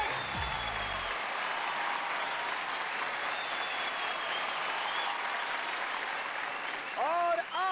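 Sustained applause from the audience at the DID Lil Masters Season 3 grand finale, honoring the second runner-up: dense, steady clapping throughout, with a brief low musical tone at the start and a few whoops near the end.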